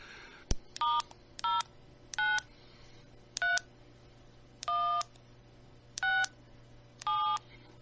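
On an AllStar ham radio node running HAMVOIP with DV Switch, a quiet sequence of eight short, electronic dual-tone beeps sounds at an irregular pace over a low hum, preceded by a single click.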